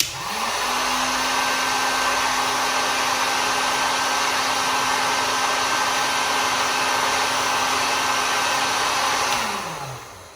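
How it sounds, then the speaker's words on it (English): A heat gun blows steadily on heat shrink tubing, a loud, even fan roar with a faint whine that starts abruptly and winds down at the end, alone with no talking. "I'm just going to heat that with my heat gun"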